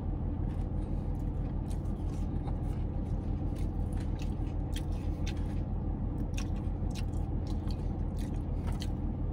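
Close, steady chewing and crunching while eating an Arby's half-pound beef and cheese sandwich with curly fries, continuous wet mastication with occasional bites, no talking.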